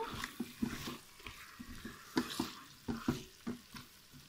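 Beef and tomato are stirred in a Cookeo pot with soft, rhythmic scraping and wet squelching strokes over a faint sizzle, fairly quiet and close, with no talking.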